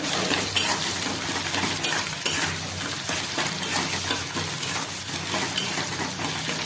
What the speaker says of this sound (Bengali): ডিমটা এবার একটু লাল করে ভাজতে হবে